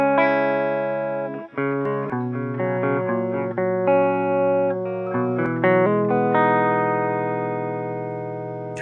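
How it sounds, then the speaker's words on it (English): Clean electric guitar chords and single notes ring out in a steady, sustained flow, bright and close, with no voices. "you've got the verse 3 guitar coming in, which is where you lose your distortion"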